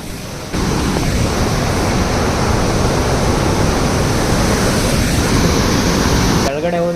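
Loud, steady rush of river water just below Anjanapura dam, a broad continuous roar filling the whole stretch, with a brief change in tone near the end.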